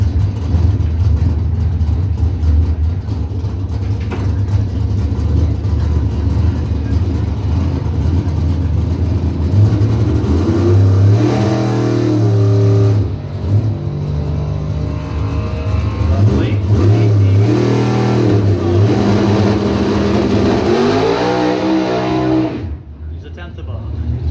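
A Skylark and a Mustang drag racing on opening day rev and accelerate loudly, their engines rising and falling in pitch across repeated gear pulls, close and sustained, with an announcer talking over them.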